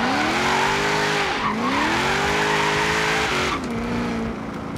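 Nissan 240SX drifting in Forza Horizon 3, engine revving steadily and dipping as tires squeal continuously through the slides, loud and close throughout with a brief break near the end.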